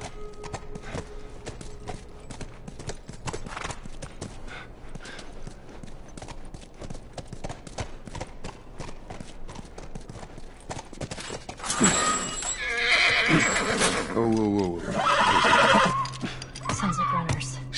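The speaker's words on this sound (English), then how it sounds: "Stay with the horse." A horse clip-clops and neighs in The Last of Us Part II. Hooves beat steadily under quiet game dialogue, then a loud, close whinny rises and wavers, and the footfalls resume.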